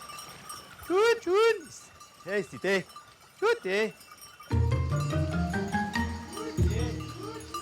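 A herd of goats in Auvergne bleats nearby in short quavering calls, then music swells in and continues to the end.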